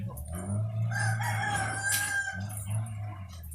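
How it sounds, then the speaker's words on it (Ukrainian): A rooster crows loudly up close, one drawn-out call, with softer clucking around it and a low hum underneath. "Такий агресивний півник."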